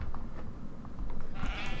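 A sheep in the video game Minecraft gives a short bleat over a low, steady game background hum.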